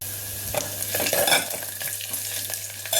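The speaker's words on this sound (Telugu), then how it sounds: "ఉల్లిపాయ ముక్కలు కూడా వేద్దాము" Onion pieces fry in a pan while rasam is being made, a soft crackling sizzle with brief stirring scrapes and clinks, close and fairly quiet, no voices.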